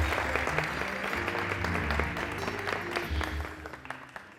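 Studio audience clapping at a Persian TV game show called Kelid, a steady dense patter of many hands filling the room, with a low musical drone beneath and no speech.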